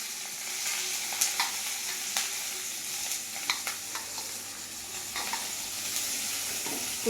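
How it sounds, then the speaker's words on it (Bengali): Chilli, onion and spring onion fry in oil with a continuous soft sizzle, interrupted by scattered clicks and scrapes of a spatula stirring the pan. "তো এটা এখন তেলে ভেজে নেওয়া হবে।"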